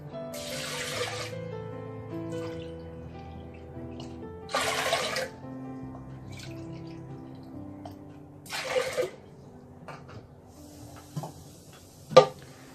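Water pours and splashes into a cooker holding rice and moong dal in several short separate bursts, faint and close, with quiet clinks between pours.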